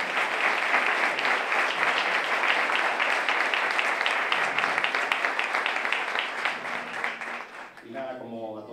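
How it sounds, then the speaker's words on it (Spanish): A theatre audience at a live talk event claps in sustained, dense applause for several seconds, loud and full, then tapers off as a voice begins to speak. "Pido un fuerte aplauso para él."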